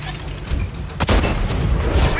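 A tank cannon firing in World of Tanks, one sharp heavy boom midway through, followed by a rumbling tail over steady engine and battle noise.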